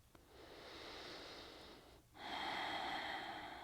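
Deep, steady breathing during a yoga hip stretch: a long soft inhale, then a brief pause and a stronger, fuller exhale, close and quiet with no talking.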